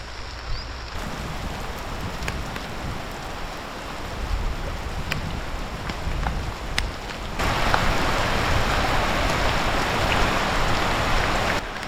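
Steady rain falls in Sumatra, a dense hiss of drops hitting surfaces that holds for the whole stretch and swells louder toward the end, with no voices over it.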